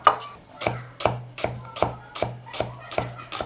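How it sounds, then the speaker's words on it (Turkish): Two onions being sliced into rings with a knife on a cutting board, giving a steady series of about ten crisp, close chopping taps. "Başta 2 adet soğanı halka halka doğruyoruz."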